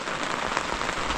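Rain falls at a riverside campsite, a close, crackling patter of drops on surfaces, steady and fairly loud throughout with no voices.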